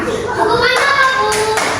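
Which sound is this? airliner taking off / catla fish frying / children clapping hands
children clapping hands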